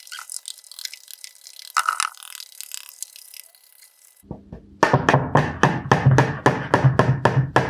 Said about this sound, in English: just like whisk that up